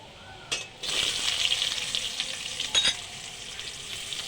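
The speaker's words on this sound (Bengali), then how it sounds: "পেঁয়াজটা আমি ভাজা ভাজা করে নেব" Onions fry in hot oil with cumin, bay leaves, chillies, cardamom and cloves for a Bengali fish-head muri ghonto, a close, steady sizzling hiss with a couple of sharper crackling bursts.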